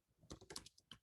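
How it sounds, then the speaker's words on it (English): Typing on a computer keyboard, a quick burst of several crisp key clicks in an uneven rhythm, close and fairly quiet with no talk. "Okay, so I'm going to type in here Cumberland County"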